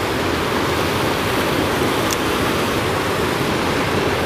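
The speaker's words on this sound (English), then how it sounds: "Spot number three is this spillway. It's flowing, which is good, but it is not very deep." Steady, broad rushing of water flowing over a shallow spillway at a fishing spot, loud and constant throughout with no talking.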